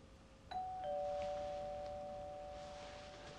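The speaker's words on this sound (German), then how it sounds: "Es hat geläutet, Herr Kollege." A two-tone doorbell chimes once inside a flat, the second tone ringing out and slowly fading over a quiet room with no talk.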